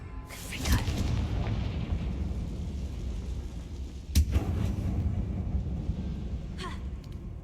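Confringo fire spell in Hogwarts Legacy, a few booming explosive blasts with sharp onsets fading into rumbling tails, over a low ambient background.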